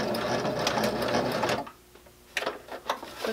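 A sewing machine stitches across a fabric basket. A rapid mechanical chatter runs for about a second and a half, then stops and gives way to a few short stitching bursts and handling clicks, heard up close at modest volume.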